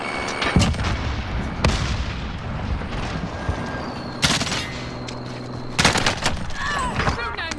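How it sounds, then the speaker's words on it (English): Gunfire in the Warzone battle royale game breaks out in sharp, loud bursts and single cracks spread across several seconds, some close and some more distant, over a constant background rumble. "don't know where those shots came from"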